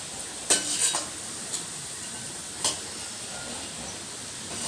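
Biscuit-style snacks frying in ghee in a pan give a soft, continuous sizzle, broken by a few sharp clinks as they are stirred and lifted out.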